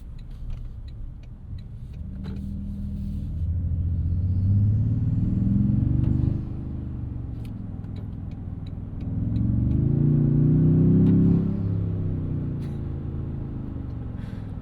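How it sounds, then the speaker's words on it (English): A tuned twin-turbo engine in a 2026 Toyota Tundra TRD Pro rumbles up through two long, rising pulls of acceleration, easing off between them, heard from inside the cab over steady road noise. "let's just try and make some boost noises"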